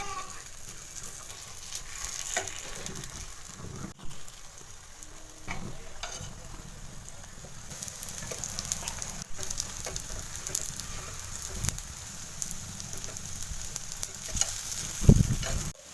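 Egg kuzhi paniyaram frying in oil in a paniyaram pan, a soft continuous sizzle with occasional scraping and clicking of a utensil turning them, fairly quiet and close.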